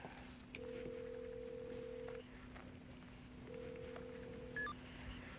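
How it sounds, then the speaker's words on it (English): A telephone call in a 1997 drama: two long steady electronic tones, like a ringback or dial signal, sound with a short beep between them over a low quiet hum, with no talk. "Come on, Ethel, answer the phone."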